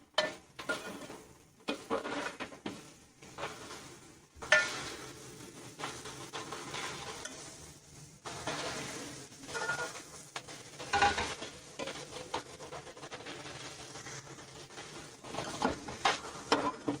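Okra frying in a pan with tomatoes and green chilies sizzles steadily, with irregular stirring scrapes and clatters rising and falling close by.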